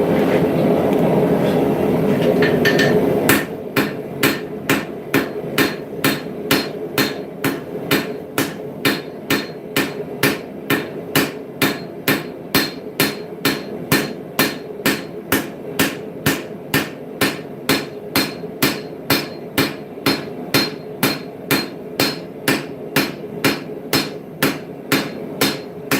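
A blacksmith hammers a hot steel spearhead on an anvil, loud ringing blows in a fast, even rhythm that continues after a short stretch of forge roar at the start.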